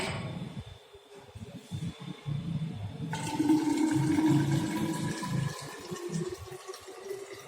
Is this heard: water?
yes